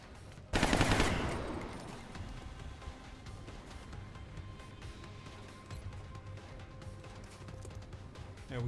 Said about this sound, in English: let's try a couple shots with you